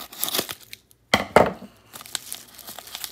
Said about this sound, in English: Let's just do it with scissors.